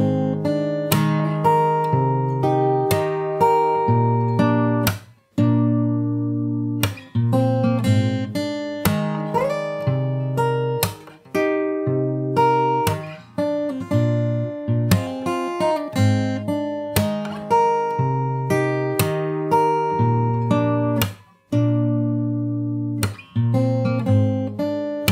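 Fingerstyle acoustic guitar plays the verse of a song, steady plucked notes and chords ringing continuously in a repeating pattern, close and clean with no voice.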